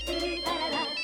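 A telephone ringtone from an incoming call in an indoor household scene, a short melodic electronic ring heard clearly and close, with no talk over it.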